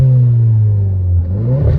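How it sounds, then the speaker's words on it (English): Car engine revving up in short bursts, its low harmonic tone rising and falling close by, growing louder toward the end with no talking. "Yeah, a few revs."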